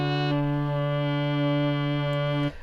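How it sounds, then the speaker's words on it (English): A sustained synthesized saxophone tone from the Mellowsound iPad app holds steady for over two seconds, bright and buzzy with rich harmonics, then cuts off abruptly. "And we have saxophone."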